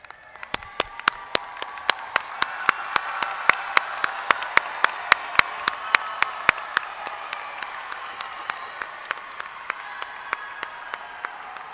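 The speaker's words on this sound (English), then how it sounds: "show your love and gratitude with a giant Franklin Strong round of applause" Graduating students and families at a 2018 Franklin graduation ceremony applaud in a broad, sustained wash of crowd clapping, moderately distant and even, with loud individual claps popping out in a regular rhythm near the microphone.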